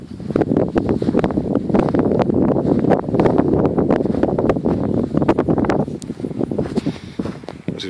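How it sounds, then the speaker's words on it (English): Strong wind gusts buffet an outdoor microphone, producing a loud continuous rumbling roar with bursts of crackly buffeting that ease slightly toward the end, with no voice heard. "Wind to start picking up. Hope it don't muffle my voice out."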